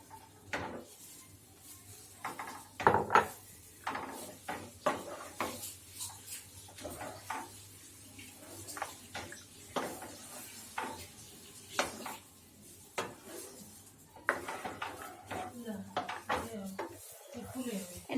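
Boiled pasta is stirred into cooled spinach sauce in a pan, with repeated close scrapes and clinks of a utensil against the metal pan in an irregular rhythm, and a faint sizzle underneath.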